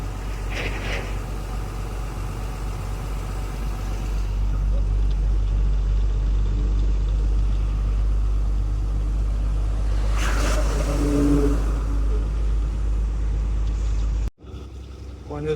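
A sluggish vehicle engine drones steadily close by as it struggles to pick up speed while driving, with its low hum persisting throughout and a brief dropout near the end; a person talks over it.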